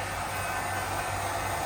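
A blower dries a dog after a bath, giving a steady, even whoosh of moving air close by with no break and no talking.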